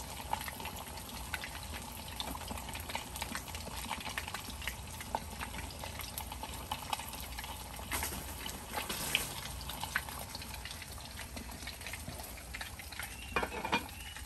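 Fish fries in a pan for a crispy Vietnamese dish, a steady low sizzle and crackle running throughout at moderate volume with a few faint clinks, no talk over it.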